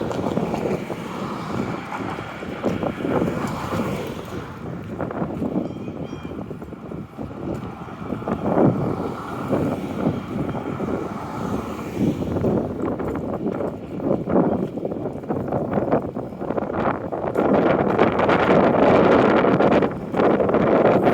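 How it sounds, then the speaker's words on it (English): Steady gusting wind roars across the microphone outdoors while walking through Dalhousie campus and Victory Park, rising and falling over a low rumbling background, loudest toward the end. "It's windy again."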